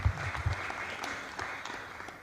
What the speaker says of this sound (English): Another round of applause for the chairperson.